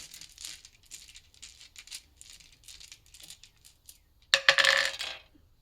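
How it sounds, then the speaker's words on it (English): Dice are taken out and rattled, giving a run of light clicking and clattering that builds to a louder, dense burst of rattling near the end, close by with no talk. "We'll go ahead and get some dice out."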